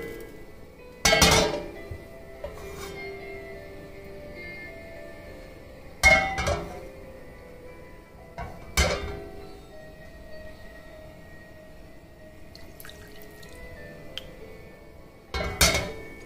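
A wok heats with oil for a restaurant-style beef and broccoli stir-fry, and sharp metal clanks ring out a few times, spaced seconds apart over a low background.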